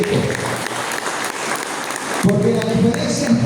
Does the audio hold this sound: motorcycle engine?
no